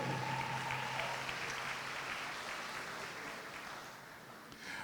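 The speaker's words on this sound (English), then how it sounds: "Let's give a round of applause for Coach Ruben Carter" Sustained round of applause from a seated crowd at a Florida A&M sports hall of fame ceremony, steady and dense for the full stretch, easing slightly toward the end.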